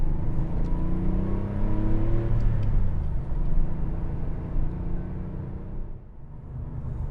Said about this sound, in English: So you still get a bit of engine noise and so on.